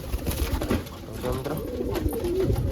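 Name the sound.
pigeons cooing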